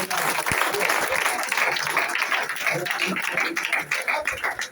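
Crowd clapping at a property presentation for Sameday Infratech, a dense continuous patter of many hands, loud and close, with voices mixed in.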